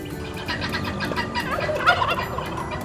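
Several farmyard turkeys gobble repeatedly in close, overlapping bursts while they compete with pigs for food scraps, over a steady murmur of other fowl, with no speech.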